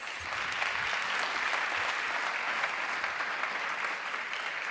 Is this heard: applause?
yes